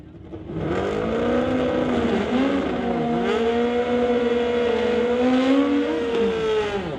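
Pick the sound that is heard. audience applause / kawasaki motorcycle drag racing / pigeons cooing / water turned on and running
kawasaki motorcycle drag racing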